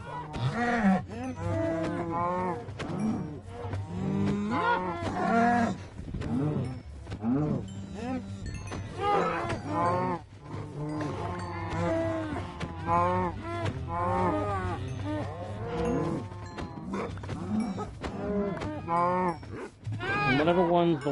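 Cows mooing in the video game Minecraft Bedrock Edition, repeated lowing calls in steady succession over a low continuous background, with wolves attacking the herd nearby.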